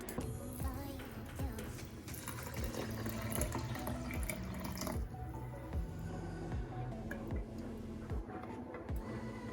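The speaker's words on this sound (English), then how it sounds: "I'm going to put some warm water in here and some olive oil." Warm water runs and splashes into a blending container for a homemade fenugreek hair mask, a steady close trickle with small irregular drips and gurgles, no talking.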